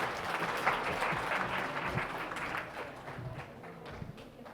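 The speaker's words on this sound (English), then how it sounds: "again, big applause for them" An audience at a camp's group presentation session claps for a team, a moderately loud, crowded patter of hands that thins and fades slightly toward the end.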